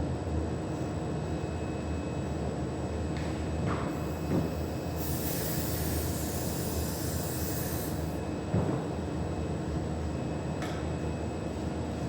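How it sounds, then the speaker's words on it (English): A burst of compressed air from an air compressor nozzle sprays over a freshly poured two-part silicone mold, hissing for about three seconds midway through a steady background rumble. "I'm just going to go spray it with the compressor"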